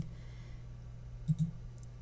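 A computer mouse gives a couple of quick, soft clicks close by against a low steady hum.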